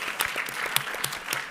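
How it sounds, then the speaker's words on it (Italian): Audience applause at an Italian press conference, a short burst of moderate, fairly sparse clapping with distinct individual claps, heard alone. "Un applauso."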